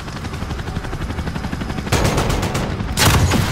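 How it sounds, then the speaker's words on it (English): Gunfire in a Call of Duty: Modern Warfare Hardcore Domination match: steady background combat, then two loud bursts of rapid shots about a second apart, close and harsh, with no talk over them. "Someone's taking pot shots out there."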